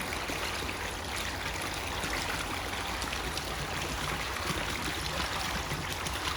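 Water from an Evolution Aqua variable-speed pump pours into a new garden pond in a steady, close, continuous rushing flow that holds an even level throughout.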